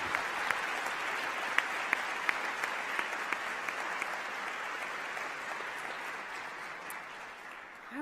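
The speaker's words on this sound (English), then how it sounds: "a round of applause" A crowd at an inauguration ceremony applauds steadily, dense clapping holding at an even level for several seconds before easing slightly at the end.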